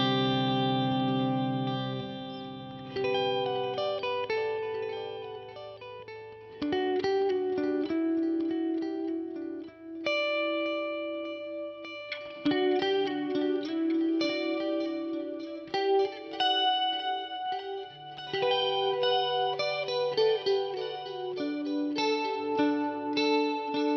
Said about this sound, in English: a kind of a shimmery, sparkly, pretty patch that gives you the chorus,